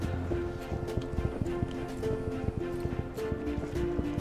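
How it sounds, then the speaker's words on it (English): Horse hooves clip-clop steadily in the video game Star Stable, a quick rhythmic trotting beat under a continuous hum of game ambience and music. "Where's the horse? There's the horse!"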